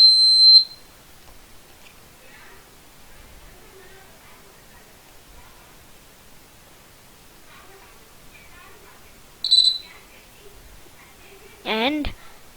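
A short, sharp electronic buzzer tone from a battery-powered rain water indicator sounds at the start and again later, each a brief high-pitched beep separated by near silence.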